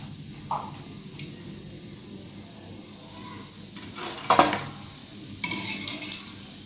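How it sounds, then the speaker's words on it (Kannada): Nippattu rice crackers fry in hot oil with a steady soft sizzle, broken by a few sharp metallic clinks and scrapes of a ladle against the pan. "ಒಂದು 5 ನಿಮಿಷ ಇದು ಕರೆದ್ರೆ ನಿಪ್ಪಟ್ಟು ರೆಡಿ"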